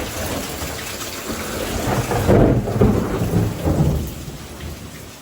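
Deep rolling thunder rumbles loudly over steady heavy rainfall in Latur, swelling and fading across the moment.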